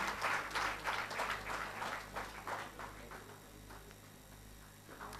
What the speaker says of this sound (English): Can we have a huge round of applause, everyone?